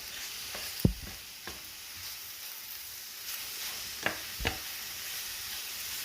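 Eggplant and beef with curry being stirred in a pan, a soft steady sizzle with a few distinct utensil scrapes and knocks at irregular moments, no talking.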